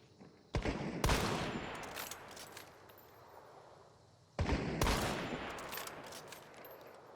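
Gunfire in a video game, two loud volleys of rapid shots a few seconds apart, each bursting in sharply and then trailing off into a decaying rumble.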